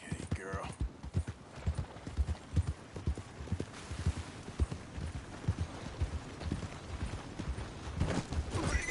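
Horse galloping in Red Dead Redemption 2, with rhythmic clip-clop hoofbeats running throughout at close range, under a soft game background.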